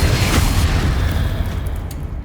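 A Confringo blasting spell explodes in Hogwarts Legacy, a loud, close, deep boom with a heavy low rumble that decays quickly over about two seconds.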